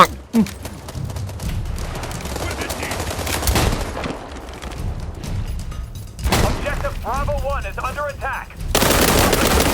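Gunfire and blasts from the shooter game World War 3 crackle through, with rapid automatic bursts, sharp single shots and heavy booms crowding each other, while players talk over the battle noise.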